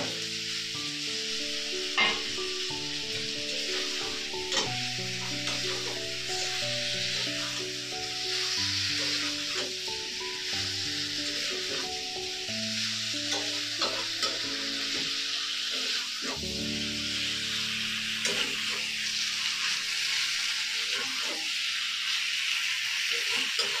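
Pointed gourd and potato pieces hiss and crackle in spiced oil, a continuous moderate sizzle with occasional stirring scrapes and soft clinks over a faint tonal hum; no voices.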